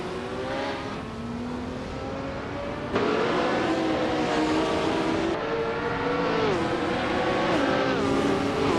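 A 1971 Porsche 917 LH long-tail race car engine drones at high revs in a racing game, its pitch climbing and shifting through gears, loud and continuous with a jump in level partway through.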